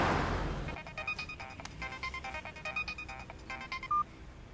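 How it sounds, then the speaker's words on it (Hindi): Phone keypad tones being dialed in a movie scene: a brief rush of noise, then a string of short, clean electronic beeps in an irregular rhythm, fairly close and with no talking. "चल फोन लगा"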